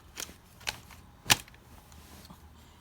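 Airsoft MP5 straight magazine clicked into a DSG build, heard as a few sharp, faint plastic clicks with one louder snap near the middle, separated by quiet pauses.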